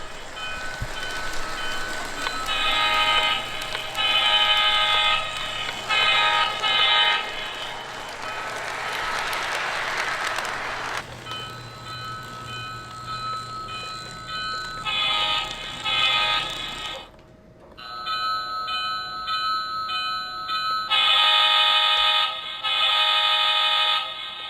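A Lionel ready-to-run diesel toy train set sounds repeated horn toots and bell tones, close and loud, with a rushing hiss between bursts and no talking.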